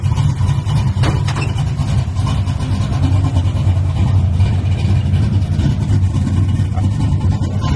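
With single-chamber mufflers and 3-inch exhaust, a car idles nearby in a loud, continuous low rumble, a slight lift in the note early on, then settling back to a steady throb.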